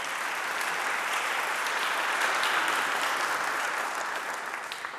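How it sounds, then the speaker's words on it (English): Applause from a public program audience thanking event sponsors, a broad wash of many hands clapping that holds steady, swells slightly midway, then thins and fades toward the end. "Please give all of them a round of applause."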